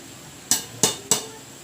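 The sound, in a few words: mixing taro (gabi) in a cooking pot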